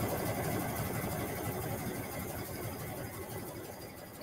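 A home sewing machine stitches a zigzag on a blanket, running steadily and quite close with a fast, even, rattling hum that continues without a break for the whole stretch.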